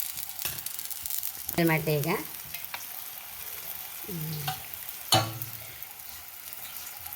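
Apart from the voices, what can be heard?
aloo packet frying on a dosa griddle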